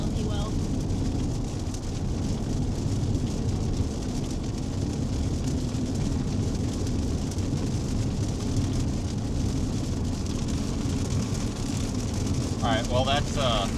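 Heavy rain pours down during a severe Texas storm, a steady, dense hiss of water holding at one close, loud level from start to finish.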